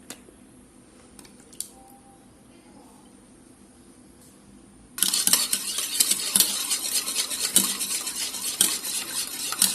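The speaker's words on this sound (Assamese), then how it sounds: "ডিম কেইটা ভালদৰে ফেটি ল'ব লাগিব।" Eggs beaten by hand in a bowl for cake batter, starting after a quiet stretch of about five seconds, then a steady, busy rattle of utensil against bowl that runs to the end, close and fairly loud.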